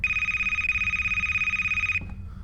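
A video game cell phone rings with a loud, rapidly trilling electronic tone that pulses steadily for about two seconds and then stops abruptly.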